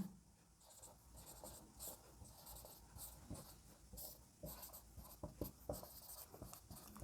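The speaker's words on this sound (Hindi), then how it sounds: "यहाँ पे लिख लेता हूं कि निम्नलिखित में" A pen writing a math question on paper, with a steady scratching and scribbling of strokes, close but quiet, with brief gaps between words.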